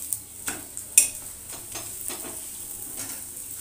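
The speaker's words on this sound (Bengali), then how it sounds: "দুটো পরোটাই আমি একসাথে ভেজে নেব।" Aloo paratha shallow-frying in white oil on a hot griddle, two flatbreads at once: a soft steady sizzle with a few sharp scrape and clink accents from a spatula early on, close and moderately quiet, no talk.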